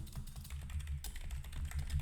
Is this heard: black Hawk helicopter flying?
no